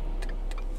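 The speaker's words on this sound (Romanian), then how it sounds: "Îmi place cum se aude semnalul" A Ford Mustang's turn signal ticks twice, sharp and close, with an even interval between the clicks over a low cabin hum.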